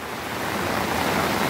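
Floodwater rushes through a gully during heavy weather, a steady broadband roar of fast-moving water that stays close and loud throughout with no speech over it.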